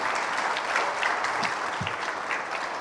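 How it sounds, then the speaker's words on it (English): Steady applause from an audience of young people at a national youth gathering in Pakistan, a dense, even wash of clapping filling the whole moment at moderate loudness. "So a big applause for the youth sitting here."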